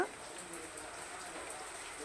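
Steady rain hisses throughout, a continuous soft patter with no single drops standing out.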